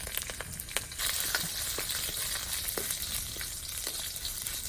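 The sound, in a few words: crushed garlic, mustard seeds and dals frying in oil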